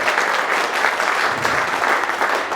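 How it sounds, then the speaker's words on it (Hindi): Dense, steady applause from a large crowd at a company seminar fills the space, continuous and loud with no voices standing out. "मैं चाहूंगा एक जोरदार ताली हमारे MD sir mister Pradeep Patel जी के लिए"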